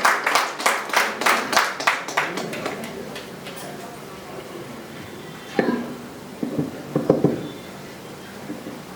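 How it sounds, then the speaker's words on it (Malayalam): Audience applause welcoming a guest to the stage at a world record award ceremony: a burst of brisk, rhythmic clapping that thins out after about three seconds, then a few faint scattered sounds. "നല്ലൊരു കയ്യടി കൊടുക്കാം അദ്ദേഹത്തിന് വേണ്ടിയിട്ട്"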